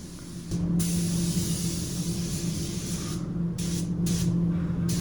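A paint sprayer lays a second coat on a door, with a loud, steady hiss of spray over a low compressor hum and brief pauses near the end as the trigger is released.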